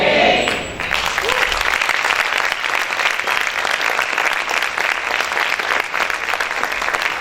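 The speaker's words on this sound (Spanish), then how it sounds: "Aplaude fuerte al Señor." A church congregation claps loudly and steadily in a sustained wave of dense applause that fills the room, with voices mixed in beneath it.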